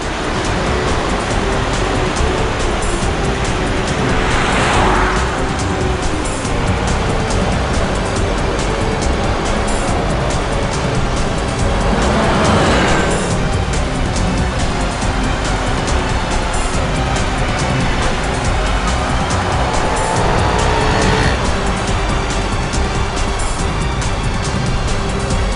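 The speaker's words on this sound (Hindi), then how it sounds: "ये गाड़ी भी शिल्पा का पीछा कर रही है।" A car drives along a road while trailing another car, with a continuous loud roar of engine and road noise that swells gently several times and carries no voices.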